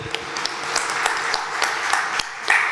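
An audience at a blockchain technology meetup applauds, a steady wash of clapping from a hall crowd with a few sharper individual claps standing out.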